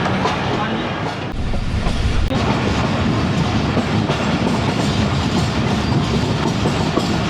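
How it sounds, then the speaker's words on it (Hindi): Ghouri Express passenger train rolling slowly between Faisalabad and Lahore in the evening, with a steady loud rumble and continuous clickety-clack of wheels on rail joints heard from inside the carriage, no talk. "आहिस्ता चल रही है ट्रेन।"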